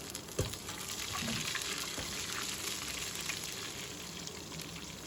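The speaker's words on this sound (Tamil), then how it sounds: "அந்த ரெண்டு பச்சை மிளகா ஃபஸ்ட்டு போட்டுக்கலாம்" Quiet, steady sizzling of two green chillies frying in oil, with a soft clatter early on, continuous and close throughout.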